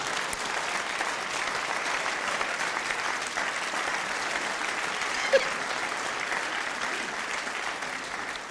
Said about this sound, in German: Ihr könnt auch mal klatschen zwischendurch, das geht auch.